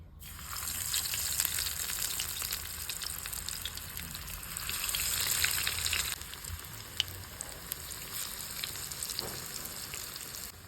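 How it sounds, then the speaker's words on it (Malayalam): Egg chicken petti snacks fry in hot oil with a continuous close sizzle and bubbling hiss that swells and eases, broken by a few faint clicks and taps. "ഇനി നമുക്കിത് ഫ്രൈ ചെയ്തെടുത്താൽ മാത്രം മതി"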